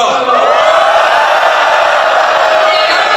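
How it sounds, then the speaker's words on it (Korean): Rally crowd at a protest calling for a president's impeachment and arrest, cheering and shouting in a loud, sustained roar of voices and whoops throughout, close and dense. "다시 한번 큰 박수와 함성 부탁드리겠습니다"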